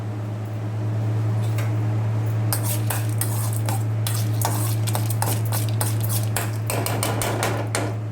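Dried red chillies and lentils are stirred around a pan with a spatula while roasting for onion chutney, producing bursts of scraping and clattering over a steady low hum.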